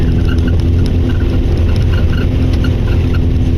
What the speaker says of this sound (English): Working my engine hard.